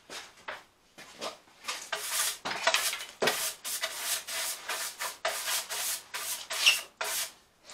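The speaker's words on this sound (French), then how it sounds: "Mets un petit coup de brosse dessus." A brush scrubbing a vintage wall clock built from salvaged materials, about a dozen brisk rhythmic strokes in quick succession, close and clear with short gaps between them.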